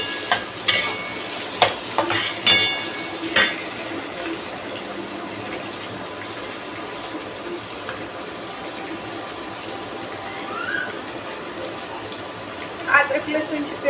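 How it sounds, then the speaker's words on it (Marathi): Finely sliced onions frying for chicken dum biryani, a continuous sizzle with a few sharp clanks of a utensil on the pan near the start and end, with a voice talking over it. "कांदा बारीक कापलेला आहे उभा, तो घ्यायचा फ्राय करायला एकदा."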